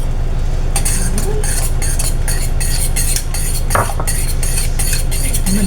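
Egg being beaten and stirred into soup in a pot, a rapid rhythmic clinking and scraping of a utensil against the pot that repeats steadily, close and loud, over a constant background hum.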